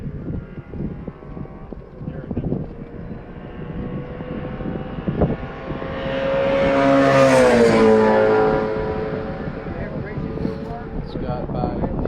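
A Toyota Camry race car drives past on the Summit Point track, its engine note rising as it approaches, peaking loudly and dropping in pitch as it passes, then fading away.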